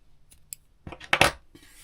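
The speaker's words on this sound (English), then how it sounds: "Cut the end off." Scissors snip off the yarn end of a crochet origami bird, a couple of quick close blade clicks and a short crisp cut, clear and alone.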